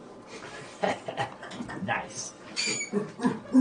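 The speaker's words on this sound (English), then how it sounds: "I just wanted you to hear the ambiance that is the dog yard" Dogs in an outdoor dog yard give scattered whimpers, yips and panting, near and far, while a person speaks briefly over the yard noise.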